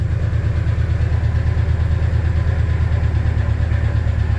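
A 1988 Ford Bronco II, restored after sitting for eight years, idles with an audible knock: a steady low rumbling engine with a fast, even ticking pulse throughout, close and continuous, with no talk.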